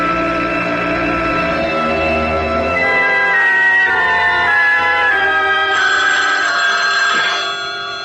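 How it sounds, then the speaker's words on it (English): An old-style telephone bell rings loudly and continuously for several seconds, with no talking. "The phone."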